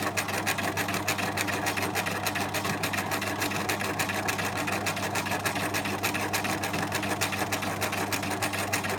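A sewing machine stitches a zipper onto a pencil case, running steadily and close with a fast, even mechanical chatter and a low motor hum throughout, no pauses.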